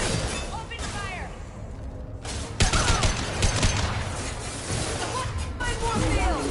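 Rapid bursts of gunfire and explosive booms in a Mass Effect 2 combat scene against a Justicar, loud and dense throughout, with shouted voices over the firefight.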